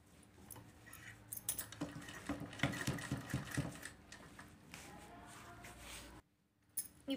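A sewing machine stitches a jumbo grocery bag, making rhythmic rattling runs of needle strokes that vary in speed and stop briefly near the end before starting up again.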